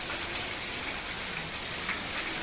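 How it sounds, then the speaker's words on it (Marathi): Steady, dense rain hisses evenly on surfaces nearby, a continuous wash of drops with no other sounds standing out. "अजून पण पाऊस यायला लागलाय"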